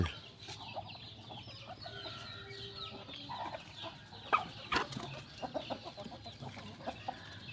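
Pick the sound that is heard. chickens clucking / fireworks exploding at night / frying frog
chickens clucking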